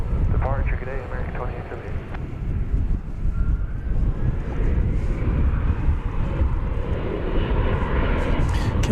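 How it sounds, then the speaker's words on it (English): American Airlines jet departing DFW Airport, a steady broad engine roar that swells and holds through the clip, with wind buffeting and voices over it. "And off to Austin, flight 2878, American Airlines."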